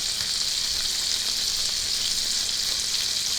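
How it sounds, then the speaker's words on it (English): Bacon fries in a pan for Southern-style fried cabbage, a steady, close, crackling sizzle heard alone without talk. "So as your bacon is frying up, make sure that it gets nice and crispy."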